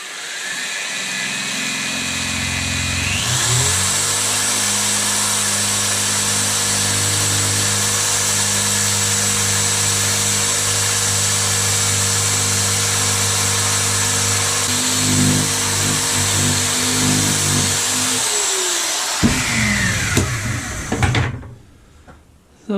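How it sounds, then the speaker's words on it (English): A powered wire brush whirring against an old, grimy chisel, with a steady high-pitched motor whine and scraping that holds for most of the time before spinning down, followed by a few clunks. "I'm going to use this wire brush very lightly on the chisel, on the plastic, to hopefully take off some of that"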